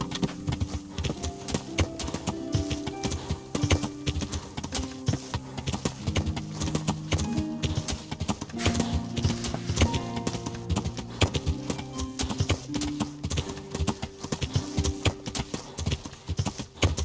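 Horse hooves gallop across varied terrain in a video game, a fast continuous clip-clop rhythm under game music and ambience.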